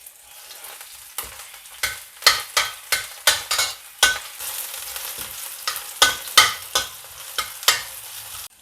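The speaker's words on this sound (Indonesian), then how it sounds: "Masak pakai olive oil. Ini daun bawang putih." Garlic leaves frying in olive oil, a soft sizzle punctuated by a series of sharp stirring scrapes and clacks of a utensil against the pan, close and fairly loud.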